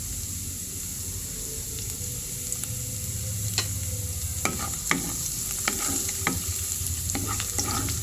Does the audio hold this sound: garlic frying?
yes